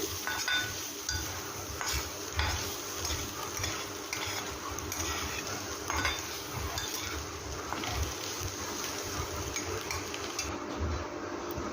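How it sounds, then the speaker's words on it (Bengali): Egg pieces are stirred into flattened rice with boiled vegetables in a cooking pan, giving repeated close scraping strokes with light clinks over a faint sizzle. "ডিমের টুকরোগুলো দিয়ে আবার একটু নেড়ে চেড়ে নিচ্ছি।"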